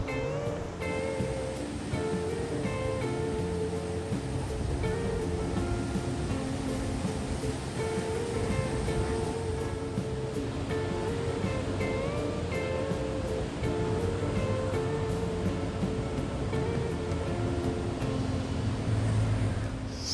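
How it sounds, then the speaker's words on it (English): Ocean surf in Bali rolls in as a steady, broad wash of breaking waves, heard from a moderate distance with a faint engine-like hum and wind beneath it, no talking. "Still empty surf in Bali."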